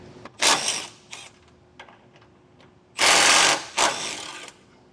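Bolts being loosened and pulled on a 2024 Ford Maverick during a Blue Ox base plate install, with a few bursts of ratcheting and scraping metal work near the mic, two of them longer and louder.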